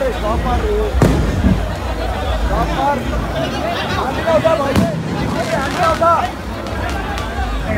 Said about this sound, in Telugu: టపాకాయలు ఆ సౌండ్ ఆపండి.